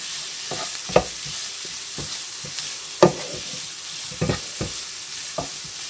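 Onions sizzling in a pan for an Asian recipe, stirred with a utensil that knocks and scrapes irregularly over a continuous frying hiss, close up with no voices.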